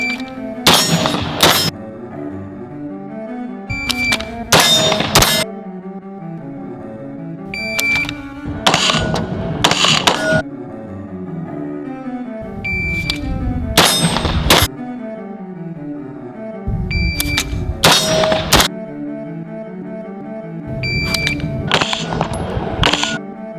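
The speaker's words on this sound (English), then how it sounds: "once you shoulder and fire the first shot and you move to the second shot" AR-15 rifle shots striking steel targets at 20 yards, each sharp crack followed by a ringing metallic clang; about six pairs of loud impacts come at regular intervals with no talking.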